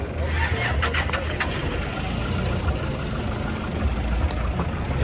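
Boat motor from 2002 starting up and settling into a loud, steady rumble close by, with no voices over it.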